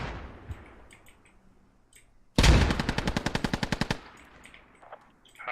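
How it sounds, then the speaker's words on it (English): Automatic gunfire in the video game Squad during a push uphill toward enemies holding windows, with a sudden loud burst of rapid, evenly spaced shots lasting about a second and a half, then quieter distant clatter. "We are getting shot at."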